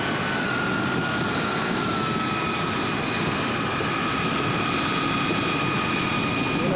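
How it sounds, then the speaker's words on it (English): Airshow aircraft engine running steadily while taxiing, a continuous turbine-like whine with high tonal lines over broadband rumble, close and loud throughout with no talk. "I should taxi it maybe"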